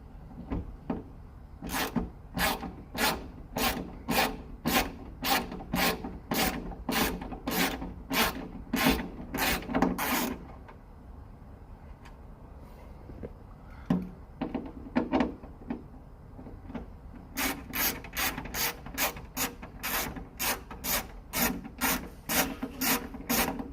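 A hand ratchet with a 7 mm socket undoes the sunroof bolts on a Porsche 911 993. Close, rapid runs of sharp clicking come in two long bursts separated by a quieter pause with a few stray knocks.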